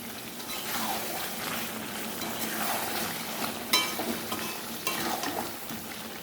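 Chicken biryani rice being stirred and sautéed in a pot, a soft steady sizzle with repeated scraping sweeps of a spoon and an occasional clink, fairly quiet and close, with no talking.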